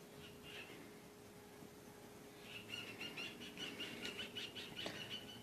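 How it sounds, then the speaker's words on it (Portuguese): Small birds chirp and tweet in quick bright bursts around a home with pets, faint at first and growing busier and closer toward the end over a low steady background hum. "o barulho dos pássaros"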